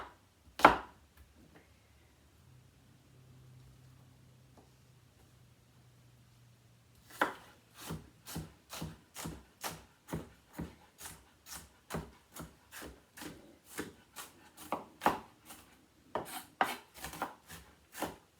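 Knife chopping onion into small pieces on a board: a scrape or two early, then from about seven seconds a steady run of quick, evenly spaced chops, close and clear, with no talking.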